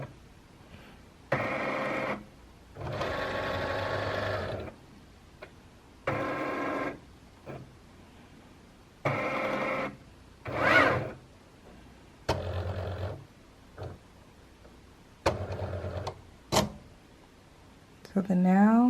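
A Cricut cutting machine slices heat transfer paper in intermittent whirring, printer-like mechanical bursts that stop and start over the clip, mixed with a person talking.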